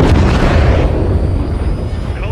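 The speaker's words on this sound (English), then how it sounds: "Gunner, drop a missile on that SAM site." A missile strike hits a SAM site in Call of Duty Modern Warfare 3 with a loud, close explosion and a long rumbling roar that fades, while radio chatter runs over it.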